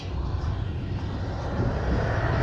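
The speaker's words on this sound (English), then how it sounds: "Tractor going by." A tractor's heavy engine drones at a low pitch and slowly grows louder as it approaches, a continuous rumble with no talking.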